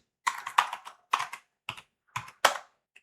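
Typing in a terminal on a computer keyboard, six short, close bursts of crisp key clicks separated by brief pauses, with no talking.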